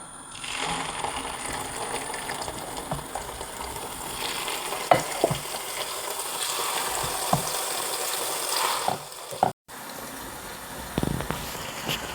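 Egusi melon seeds fry in a pot while being stirred, giving a continuous soft sizzle broken by scraping strokes and a few knocks, with one brief gap near the end.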